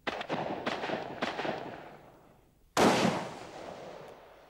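Sniper rifle fire at long range: a few sharp cracking reports, then one loud booming shot followed by a long echoing decay, with no talking.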